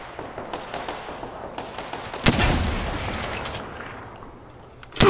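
Gunfire in the Apex Legends battle royale game: quiet scattered shots at first, then a loud sudden burst of fire that rolls into sustained rattling and fades before another sharp shot at the end.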